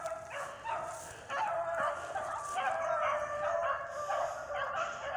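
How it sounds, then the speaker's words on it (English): A pack of hunting dogs barks and bays at a distance along a brushy field edge, with overlapping yips and howls rising and falling continuously through the moment. "That's my dogs right there, man."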